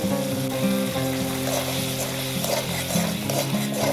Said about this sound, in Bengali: এবার আমি এই মশলাটা দিয়ে ভালো করে কষিয়ে নেব।